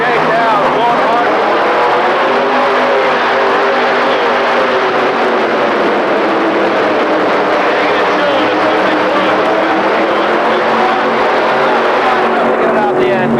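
A 7,000 lb modified tractor at the 1985 Indy Super Pull roars through a hard pulling run, its engines a loud, sustained, continuous drone under an announcer's commentary.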